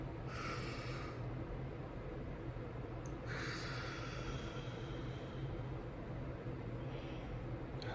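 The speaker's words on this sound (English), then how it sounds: "Breathe in, breathe out." Slow, deep breaths drawn in and pushed out, heard as long airy whooshes spaced several seconds apart over a steady low background noise, close to the listener, with no talking.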